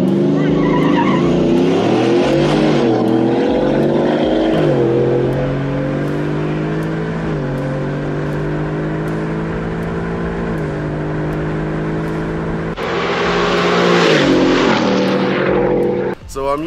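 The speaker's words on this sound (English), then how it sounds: "Oh yeah, it's got a Whipple supercharger on it too." A 6-inch lifted Ford F-150 on 35-inch tires with a Whipple supercharger drives hard, its loud engine note climbing and falling through gears with a rising supercharger whine and a burst of roar near the end, with people talking over it.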